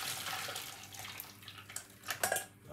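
Hot water is poured off cooked frozen vegetables into a kitchen sink, a brief, faint splashing gush that grows louder toward the end.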